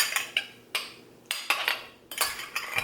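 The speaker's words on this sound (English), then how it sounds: "I'm just gonna mix in this little spoonful of brown sugar right in" A spoon stirs brown sugar into warm cooked boba pearls in a dish, giving several short, close scraping clinks separated by brief pauses, with no talking.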